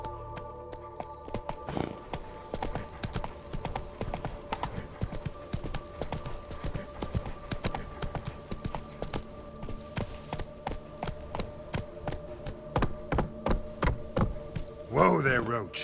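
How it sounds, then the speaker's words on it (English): Horse hooves clip-clopping at a steady trot as Roach carries the rider through The Witcher 3 video game, the rhythmic beats close and continuous over faint game ambience, with a brief snort or whinny near the end. "Whoa there, Roach"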